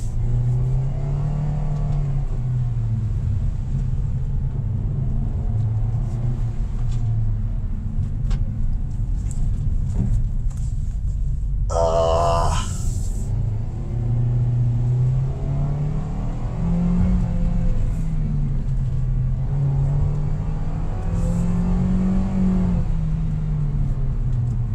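2025 Toyota Veloz driving on twisty roads, steady engine hum and road rumble from inside the cabin, rising and easing with throttle through the bends, with a brief sharp clatter midway.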